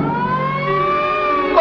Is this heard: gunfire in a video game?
no